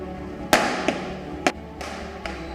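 Diwali firecrackers and rocket fireworks burst in a string of about five sharp bangs at irregular intervals, the first loudest and the rest fainter, over a low background hum.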